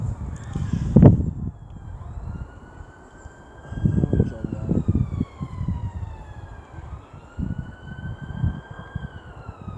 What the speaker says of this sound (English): It's an ambulance.